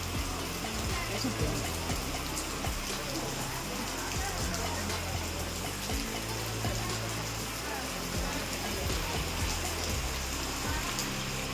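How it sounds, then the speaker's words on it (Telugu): Steady rain falls with a dense, hissing patter across the whole clip, continuous and fairly close, with faint voices now and then beneath it. "అనుకోకుండా వర్షం పడింది"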